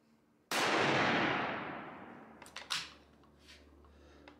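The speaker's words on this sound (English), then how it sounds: "So this rifle can shoot." A Remington 700 SPS Tactical bolt-action rifle fires a single loud, sharp shot that rings out and decays over a couple of seconds, followed by a few faint clicks and clatter outdoors.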